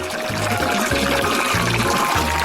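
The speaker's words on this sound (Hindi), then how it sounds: "मैं तुम्हें पानी दूंगी ताकि और फूल दिखाई दे।" Water poured steadily over garden flowers from a watering source, a continuous splashing pour that runs loud and close for the whole stretch with faint voices underneath.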